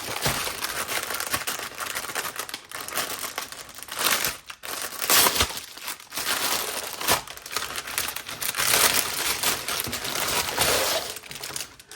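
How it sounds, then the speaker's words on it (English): Plastic packaging crinkles and crackles almost nonstop as a cross-stitch kit is unwrapped, close and fairly loud, with brief pauses between handfuls of rustling. "It's going to be a little crinkling while I get this out of the package."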